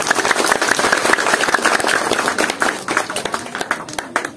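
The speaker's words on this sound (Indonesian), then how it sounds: "Tepuk tangan untuk ayah saya." A seated audience at an inspirational talk breaks into loud, crisp clapping that stays dense, then thins into looser, more scattered claps toward the end.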